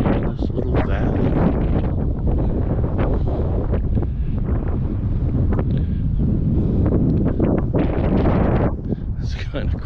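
Heavy wind buffeting the microphone in loud, rumbling gusts throughout, with a person talking under the roar, on a high spot above a valley near Billings.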